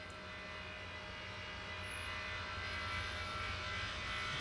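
A large Etihad airliner touching down at Velana airport in the Maldives in Tower Simulator 3, a faint, steady jet engine drone that swells slightly toward the end, heard alone.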